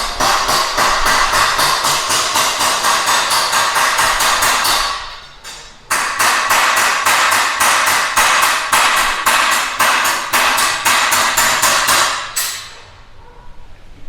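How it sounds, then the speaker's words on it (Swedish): Rapid, loud metallic hammering with rattling clangs on a Mercedes car body, a steady relentless rhythm that pauses briefly once before resuming, then fades out near the end. "Det där bankandet och skramlandet."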